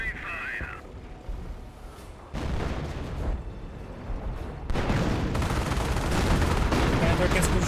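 Battle in the Company of Heroes strategy game, dense bursts of gunfire and booming artillery that grow louder and more continuous in stages, with a brief voice heard early on.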